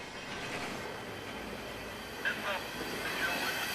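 Final container cars of a CSX Q130 freight train roll past, a continuous steady rumble of wheels on rail with faint squeals and clicks, moderately loud and even throughout.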